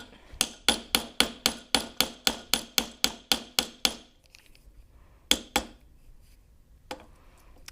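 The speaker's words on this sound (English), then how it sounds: "I'm going to hammer out the other one of the balls" Hammer strikes flattening a balled metal wire end on a metal plate, about fourteen quick, evenly spaced sharp taps, then a pause and a few isolated blows, close and clear.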